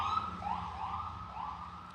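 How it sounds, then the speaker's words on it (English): An emergency vehicle siren wails in steady rising and falling sweeps, heard at moderate distance over low background rumble. "can hear sirens"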